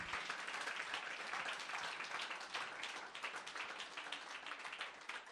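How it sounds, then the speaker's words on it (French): A church congregation applauds itself during a sermon, a faint, distant wash of continuous clapping from many hands. "Et je veux que vous applaudissiez vous-même."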